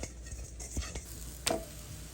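Seasoned fish for tacos is stirred in a pan, giving a faint low sizzle with a few soft utensil scrapes and one brief clink, quiet and short.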